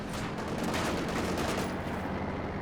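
Panzerfaust anti-tank launcher fired in a Company of Heroes 2 tank battle, set against dense, continuous gunfire and explosions that stay loud across the whole stretch with no pause.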